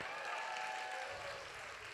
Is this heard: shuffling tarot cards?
no